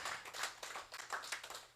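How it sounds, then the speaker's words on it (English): Audience applause at an educational meeting, faint and distant, a soft wash of many hands clapping unevenly for under two seconds. "Yes, please, round of applause."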